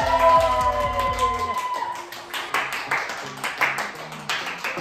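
A small office group claps to celebrate reaching 100K subscribers, uneven scattered claps following a fading musical chord, fairly close and moderately loud.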